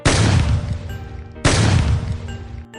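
Two loud gunshot blasts in a Hindi Panchatantra cartoon, each a sharp booming crack with a long ringing decay, the second arriving about a second and a half after the first.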